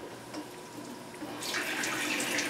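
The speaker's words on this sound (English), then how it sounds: "When you water your indoor plants, don't use extremely cold water. Try to make it tepid." Water runs steadily from a sink tap to fill a container of tepid water for indoor plants, starting after a quiet moment and continuing as a bright, even hiss.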